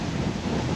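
Wind blowing outdoors at Carlsbad Caverns, a steady, dense rush of noise buffeting the microphone for a brief moment, with no voices.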